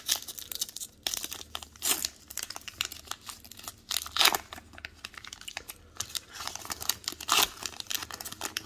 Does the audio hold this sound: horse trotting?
no